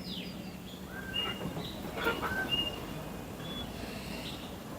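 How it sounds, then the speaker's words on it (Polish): Jungle birds near San Ignacio, Belize chirp and whistle in short, scattered calls over a steady background hum of the town, some calls brighter and nearer, others faint and distant. "pokażę wam, co jest przede mną i jak te ptaszki tu śpiewają"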